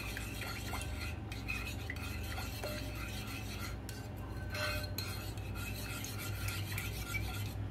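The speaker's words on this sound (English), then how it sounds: "And now we're going to mix this up." A spoon scraping and rasping against a bowl while ingredients for scalloped turnips are mixed, a steady close-up stirring rhythm with occasional clinks.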